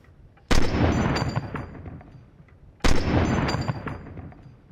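Two loud gunshots in Fortnite, each a sharp blast trailing into a rolling echo, spaced a couple of seconds apart, with no talk over them.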